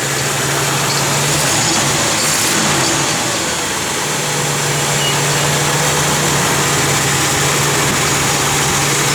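A 1964 Chevrolet Impala SS engine runs loud and close, holding a steady throaty drone with a slight dip around the middle before settling back to a constant idle.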